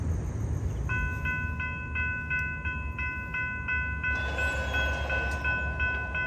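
A northbound SunRail commuter train pulls into the Kissimmee, Florida station, with a steady rumble under repeated loud multi-tone horn blasts, close and continuous.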